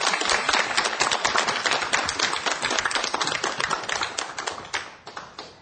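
A lecture audience clapping loudly in a steady, rapid crowd applause close to the microphone, keeping an even pace for several seconds before thinning slightly at the end.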